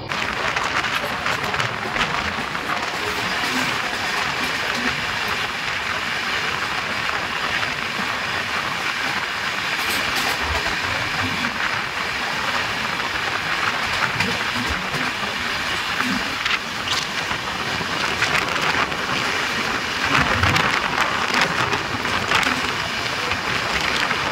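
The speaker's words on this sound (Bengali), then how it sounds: "এবার আমাদের সাথে দেখা হবে 12802 পুরী পুরুষোত্তম এক্সপ্রেস।" The 12802 Puri Purushottam Express rushes past on the Indian rail line, a loud, sustained roar of wheels and carriages with continuous rattling clatter, close by and filling the whole span.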